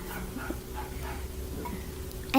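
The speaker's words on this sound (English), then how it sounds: "we got a new puppy, so it's barking" A new puppy whimpers and yips softly indoors, faint and intermittent against a low background hum, with a louder sound breaking in at the very end.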